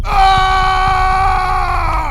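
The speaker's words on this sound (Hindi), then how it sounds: "पैर पे कुछ जोर से आके लगा और वो चिल्लाया।" A man lets out a long, loud scream of pain as a horror story sound effect, one sustained strained cry held close for about two seconds with a slight falling pitch.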